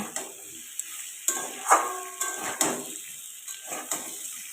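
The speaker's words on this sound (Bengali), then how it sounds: "দেখো সব কিছু এখানে ভালোভাবে আমি কষিয়ে নিচ্ছি" Pumpkin curry is stirred in a frying pan, a spatula scraping and clacking against the metal in irregular strokes over a soft sizzle, close and clear, with no talk.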